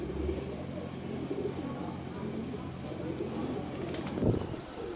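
Pigeons crowd a rooftop and coo faintly in a low, steady murmur under outdoor background noise, with a brief louder rustle near the end.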